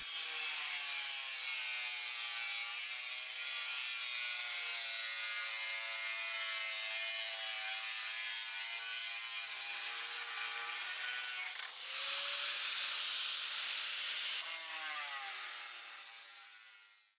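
Metal round parts for a screw conveyor are cut, giving a loud, continuous grinding screech with a bright, harsh ring. It holds steady for about seventeen seconds with one brief break near the end and no voices.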